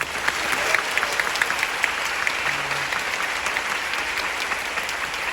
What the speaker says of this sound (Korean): 마지막 공연까지 정말 훌륭하게 마친 나연우 배우에게 다시 한번 큰 박수 부탁드립니다.